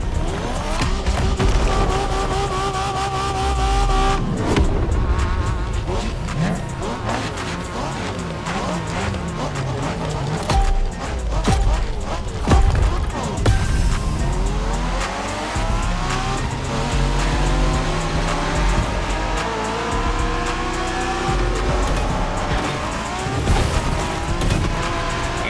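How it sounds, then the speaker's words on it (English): Cars race through a Japanese street race in the video game The Crew Motorfest, engines roaring and revving up and down close by, with repeated tire squeals and skids across a continuous, loud stretch. "We're going for some proper Japanese street racing."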